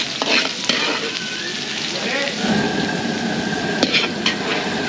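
Chop suey with garlic and onion stir-fried for catering, a loud, dense sizzle with constant stirring and scraping of a pan, close up and without talk.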